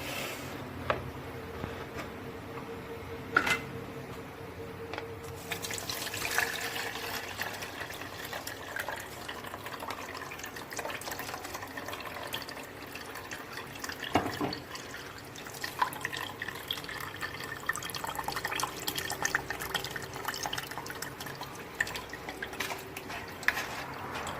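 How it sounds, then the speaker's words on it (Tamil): Watery ground rice batter poured through a filter, a steady close trickle and drip of liquid running continuously with occasional small splashes and clinks. "இப்போ இதை வந்து நம்ம ஃபில்டர் பண்ணி எடுக்கலாம்."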